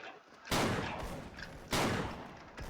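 Zastava M76 rifle fired in the game Special Force, with two sharp, loud shots about a second apart, each trailing into a reverberant tail.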